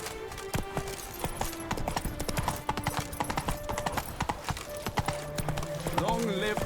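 Hooves of the horse Roach in The Witcher 3, a rapid rhythmic clip-clop at a steady gait, close and prominent, with a voice speaking over it and scattered game sounds.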